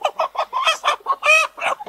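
A rooster being sold at a market clucks close and loud, giving a rapid string of about eight clucks with a longer, squawking call near the end. No talk is heard over it.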